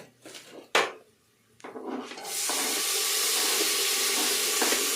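Tomatoes drop into a hot pan while cooking biryani, giving a few soft clatters and then a loud, steady frying sizzle that holds close and continuous to the end, with no talking.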